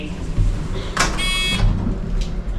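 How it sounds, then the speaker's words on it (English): Lift doors sliding open at Woolwich station, a loud mechanical whoosh with a brief rattling buzz partway through, over steady lift hum. "Doors opening."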